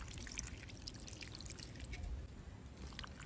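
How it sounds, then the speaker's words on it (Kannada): Water pours steadily onto wild mango peels in a village kitchen, a soft continuous splashing trickle that runs throughout at low level. "ಈ ಸಿಪ್ಪೆಗೆ ಸ್ವಲ್ಪ ನೀರು ಹಾಕ್ತಾ ಇದ್ದೀನಿ."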